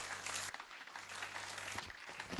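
A church congregation claps together in a steady, fairly faint patter that briefly dips and then resumes, with no distinct voices over it.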